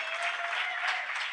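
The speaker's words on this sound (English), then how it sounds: "So now you can give a big round of applause to Boys Noise." A studio audience claps for Boys Noize at the close of a podcast episode, a dense, even burst of applause held at steady loudness throughout, with no voices over it.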